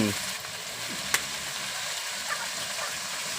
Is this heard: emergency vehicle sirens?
no